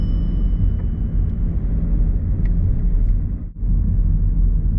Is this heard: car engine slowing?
yes